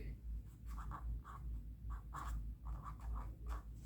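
Pen writing on paper while working out costs for a leather bag, a steady scratchy scribble in short strokes with small pauses, close and fairly quiet over a low hum.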